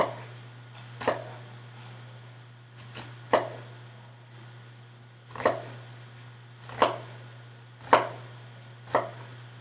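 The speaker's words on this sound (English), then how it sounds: "turning it to the side again, and then chopping down through this, dicing it up" A knife thuds down onto a cutting board in slow, separate chops while dicing an onion, about seven strikes spaced a second or two apart over a low hum.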